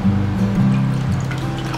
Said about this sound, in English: Again I am leaving it in water.